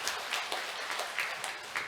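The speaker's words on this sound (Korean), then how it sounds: "우리 하나님께 큰 영광의 박수 한번 드리겠습니다" A church congregation at a Sunday worship service in Seoul claps together, applause fairly soft and steady from a moderate distance, with no talking over it.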